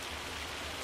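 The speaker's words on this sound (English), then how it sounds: "Check the forecast, see when it's supposed to stop raining." Steady rain in the video game Farming Simulator 25, a soft, continuous hiss of falling drops, faint and even with no other sounds.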